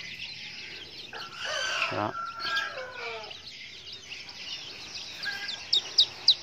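Young red junglefowl chicks being raised, with soft clucks and chirps scattered across the moment, a few sharp peeps near the end, and someone speaking over them.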